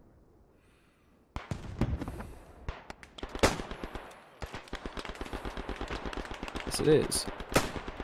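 Machine gun fire from MG nests in the video game Beyond the Wire, rapid rattling bursts and heavier booms rolling on almost continuously from just after the first second, fairly loud, with a brief spoken reply.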